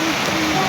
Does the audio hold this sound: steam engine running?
no